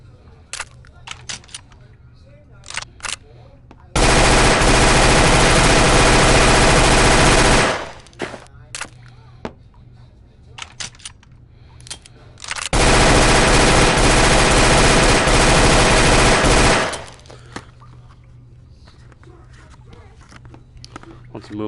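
P90 submachine gun in Gun Club VR fires two long, extremely rapid bursts of about four seconds each, loud and continuous, separated by quieter handling clicks.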